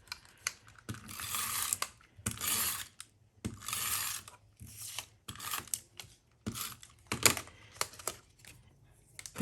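Tape runner applying adhesive to a gold paper panel for a layered card, giving repeated short ratcheting clicks and zips in quick bursts, close and fairly loud, with no talk.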